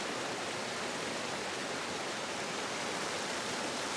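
A crystal clear waterfall pours in a constant, broadband hiss of tumbling water, nearby and unbroken, with no talking over it.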